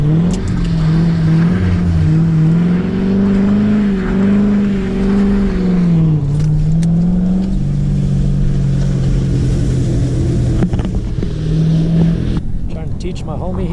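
A Corvette engine revs and drones close by while the car spins donuts in deep snow during a blizzard in El Paso, Texas, its pitch rising and falling in long sweeps, with people talking over it.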